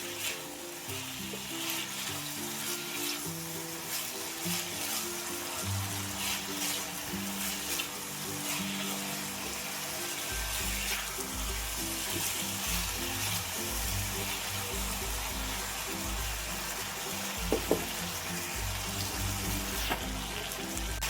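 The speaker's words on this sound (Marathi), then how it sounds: "आता फुल गॅसवरती बटाटे परतून घ्यायचे आहेत." Potatoes with salt fry over a full gas flame, a soft, steady sizzle with faint watery crackle and an occasional clink, heard throughout without any talking.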